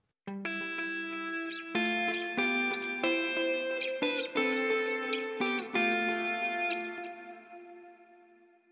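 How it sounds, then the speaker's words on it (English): An electric guitar plays a slow sequence of notes and chords, each ringing out with a spacious reverb tail that lingers after the final note. "And then adding the effects reverb on the guitar."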